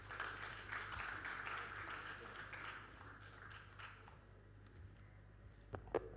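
Audience applause at a Nigerian education and youth empowerment launch event, a steady patter of clapping from a crowd that gradually thins and fades, with a few faint taps near the end.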